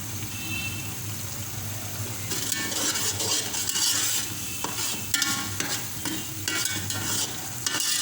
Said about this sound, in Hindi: अब ये सब मैं मिक्स कर लूँगी।